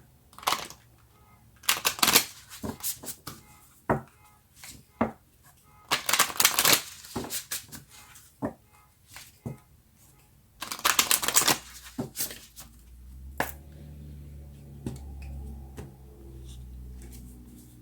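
Tarot cards are shuffled and drawn in several crisp riffling bursts, with quieter taps and slides of cards between them, close and alone.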